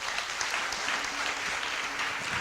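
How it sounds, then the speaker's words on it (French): A church congregation applauds in a dense, steady burst of many hands clapping together at full volume, with no pauses across the short stretch. "On va applaudir notre Dieu."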